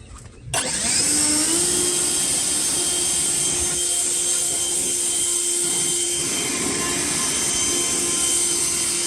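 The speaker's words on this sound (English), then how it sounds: "Ego, best electric blower on the market." An Ego electric leaf blower drying a 2017 SRT Jeep, starting up and then holding a loud, steady high-pitched whine with a rushing airflow roar close by for the whole time.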